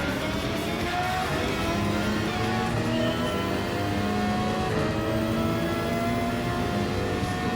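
A Mercedes-AMG race car in Gran Turismo 7 drives continuously with a steady, droning engine note that rises gently under throttle, heard alone and fairly loud throughout.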